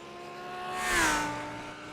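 A GT3 race car at Charlotte Motor Speedway roars past at high speed, its engine note rising to a loud peak and falling away with a pitch drop as it passes, with no talk.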